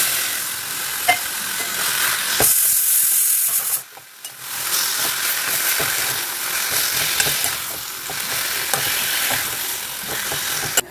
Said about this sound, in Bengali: আলুটাও দিয়ে দিয়েছি, দিয়ে এখন মশলা দিয়ে একটু কষাচ্ছি।